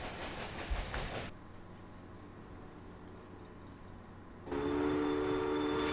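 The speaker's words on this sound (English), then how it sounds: "We should see our train roll into the tower." A locomotive in the Railway Empire video game rolls into a supply tower, with a steady low rumble of wheels and carriages under game background sound, ending in a louder, brighter passage.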